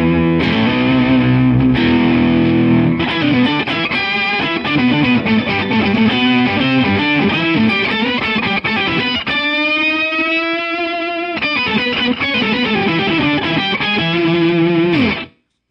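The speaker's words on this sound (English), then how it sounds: "Even though that has a pretty nice like distortion or almost fuzzy on it" Electric guitar played through a distortion pedal with an almost fuzzy tone, as part of a NAMM guitar rig, ringing out loud and continuous with chords and sustained notes, a smoother sustained passage midway, and no talking.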